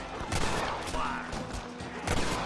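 Gunfire in the Red Dead Redemption video game, a rapid volley of overlapping shots and cracks in quick irregular bursts, fairly close, with faint voices in the background.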